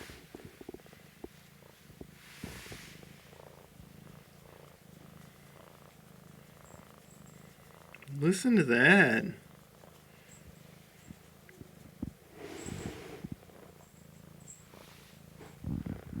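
A low, steady cat purr rumbles throughout, while a person speaks briefly partway through.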